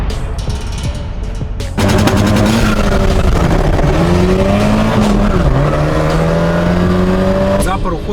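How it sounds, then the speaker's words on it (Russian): A ZAZ 968M car accelerates hard in a drag race against a BMW E46 2.5, its engine roaring loud and steady after a sudden launch, with rising revs and a gear change. "Запор уходит просто с самого начала."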